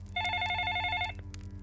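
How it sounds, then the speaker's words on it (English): A telephone rings once in a short electronic trill burst over a low steady hum, fairly faint, used as a sound effect in a spoken horror story. "Then my phone rang again."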